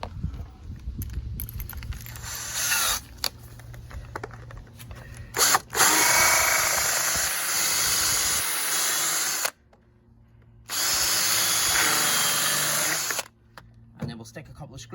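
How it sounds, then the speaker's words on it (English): A handheld power drill bores small holes in wood, with several whirring bursts of varying length separated by brief pauses and handling noises, close to the listener. "So I'll drill these wee holes now,"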